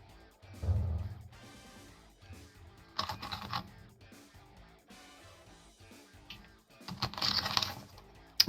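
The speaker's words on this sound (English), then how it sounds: "typing F3 in the chat" Computer keyboard typing during an online retro gaming tournament stream, a steady patter of key taps that swells into louder bursts several times, with no voices over it.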